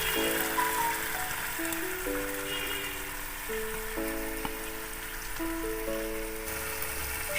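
A paste of turmeric and Kashmiri chili powder sizzles in hot oil while cauliflower korma cooks, giving a steady, close, even hiss under sustained background music, with no talking.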